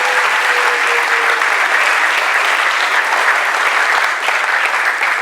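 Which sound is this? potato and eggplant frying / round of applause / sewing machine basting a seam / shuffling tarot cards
round of applause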